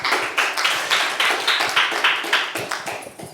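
Audience applause at a conference event: a steady stream of crisp, fairly loud claps with a regular rhythm, close and clear, with no talking over it.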